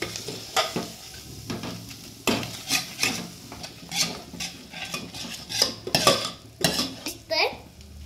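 A spoon stirs sambar mixture in a metal pot, with repeated scraping clinks at an uneven quick pace. A faint sizzle runs underneath.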